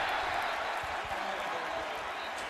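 A stadium crowd roars at a college football game between West Virginia and Baylor, a dense, steady wall of cheering noise that fills the whole moment without letting up.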